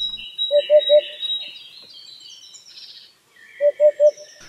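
A Eurasian hoopoe gives two sets of its low, warm, slightly bassy triple hoots, each three evenly spaced notes, with a pause between the sets and thin higher bird chirps in the background.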